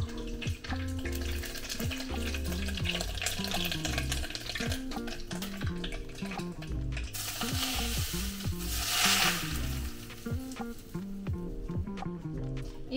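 Chopped herbs, lightly salted, crackle and sizzle steadily as melted ghee is poured over them, with a loud, continuous fry and a brief surge of hiss midway, heard close and alone.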